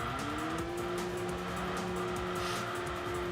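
A race car oversteers in the video game Enthusia Professional Racing, its tires squealing in a sustained, rising whine over a steady, loud engine roar.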